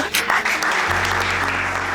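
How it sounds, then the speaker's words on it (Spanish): Applause from an audience at a wholesale sporting-accessories trade show in Buenos Aires, a dense steady clatter of many hands clapping throughout, with a low hum joining partway through. "Así que le damos un fuerte aplauso a Gerardo Abdala."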